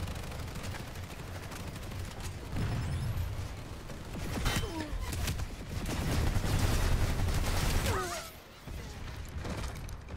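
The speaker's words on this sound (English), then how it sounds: "God, I do love the automatic shotgun." Rapid automatic shotgun fire in the online shooter Planetside 2, dense bursts of blasts and mechanical clatter layered over battle noise, with a brief lull near the end.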